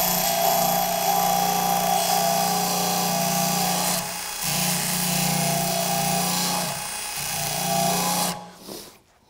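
A DEWALT 20V XR cordless bandfile sanding a metal weld, a steady high whine running continuously, close and loud, dipping briefly twice under load before stopping.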